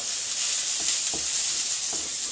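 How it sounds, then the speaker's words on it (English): Diced guinea fowl and frozen sweet corn being stirred in a hot pan, giving a loud continuous hiss of frying with a few soft utensil scrapes beneath it. "I'll just keep on stirring this till the sweet corn"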